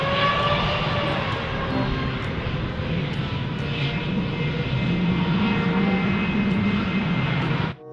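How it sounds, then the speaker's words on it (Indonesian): A fixed-wing airplane's engines drone loud and steady for several seconds with no talking, then cut off abruptly at the end. "Di sini ada pesawat terbang."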